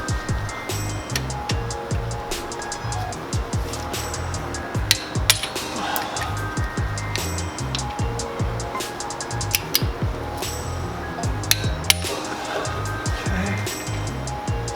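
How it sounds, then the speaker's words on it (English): Hand tools working on the differential fill bolt of a Nissan 350Z (Z33) in a garage, giving repeated metallic clinks and taps with scattered ratchet and wrench clatter, close and steady throughout with no talking. "I'm going to start removing the fill bolt and then the drain bolt on the differential"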